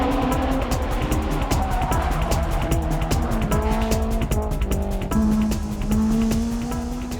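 Turbocharged Lancer race cars climb a mountain pass, engines roaring loud and continuous with rising and falling revs, gear changes and tire squeal throughout.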